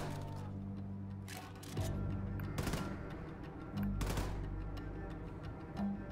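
Gunfire in the video game Wolfenstein II, bursts of rapid shots against a humming, droning game soundscape, with a couple of louder volleys standing out.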